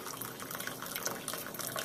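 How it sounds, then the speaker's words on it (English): Brewed coffee pours from a French press into a cup, a steady close trickle and splash of liquid that keeps going throughout without pause; no talking. "And we're going to pour it right out."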